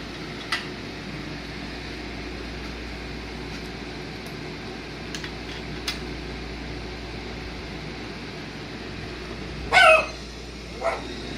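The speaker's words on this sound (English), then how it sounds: "She's the guard dog." A guard dog in an engine-removal garage barks once sharply and fairly close, with a fainter yip after, over a steady hum of fan or machinery noise.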